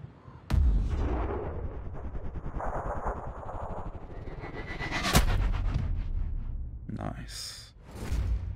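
Sniper rifle gunfire in the video game Sniper Ghost Warrior Contracts, with one sharp, booming shot near the middle over a rumbling game backdrop, followed by whooshing effects and echo.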